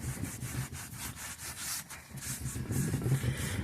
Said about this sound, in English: we'll just go around the wheel here and wipe it down with the acetone